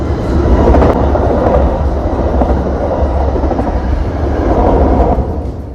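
A steady, heavy rumble of a train rolling past, loud and continuous with a broad low roar and faint rattling throughout.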